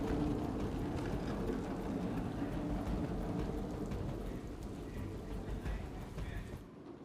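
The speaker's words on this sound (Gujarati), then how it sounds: "અમદાવાદના જુદા જુદા વિસ્તારોમાં વરસાદની શરૂઆત થઈ છે" Heavy rain pours over Ahmedabad city areas, a dense, steady wash of broadband hiss that stays loud and continuous throughout, easing slightly near the end with no voices.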